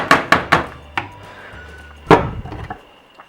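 Canned beans and corn are tipped into a pot of vegan black bean chili, heard as several sharp knocks and clanks of a container against the pot, then a wet slide and a few softer taps.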